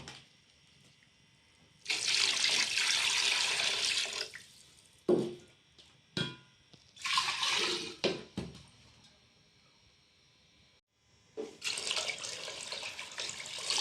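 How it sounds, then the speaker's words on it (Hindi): Tap water is poured into a pot of beef trotters for paya, about three to four litres. Loud rushing water comes in three separate bursts with quiet pauses and a few drips and clatters between them. "अब हम इसमें पानी डाल के इसको रख देंगे।"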